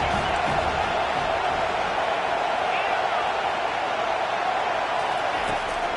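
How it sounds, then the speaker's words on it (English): Stadium crowd at a Penn State Nittany Lions college football game, a dense, steady roar as fans get loud for the defense on third down, filling the background without pause. "Decibels rising as the crowd gets behind this defense on third down."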